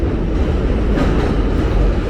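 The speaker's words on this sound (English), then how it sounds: "So right here is the 233rd stop on the 2 and 5 train" A New York subway 2 and 5 train at the 233rd Street station in the Bronx gives a loud, steady low rumble with rail noise, close and continuous, with no talking.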